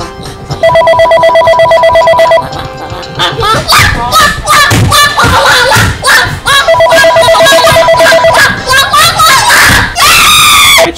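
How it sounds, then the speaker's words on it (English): A phone ringtone plays in tonal bursts in a loud comedy show setting, mixed with a crowd screaming and laughing. "I changed my ringtone"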